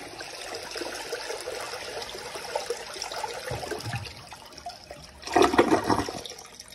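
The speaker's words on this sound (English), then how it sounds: "I'm just gonna flush it in the dark." A glazed toilet in a dark home restroom flushes: a quiet trickle and hiss first, then a loud, close rush of water that swells and gurgles away.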